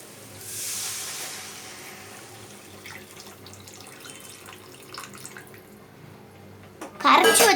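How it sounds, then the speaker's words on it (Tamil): Tamarind water poured into a pan of sautéed masala for fish gravy, a soft running hiss of liquid with a sharper sizzling burst near the end. "இப்போ நம்ம கரைச்சி வச்ச புளி தண்ணி ஊற்றிக்கலாம்."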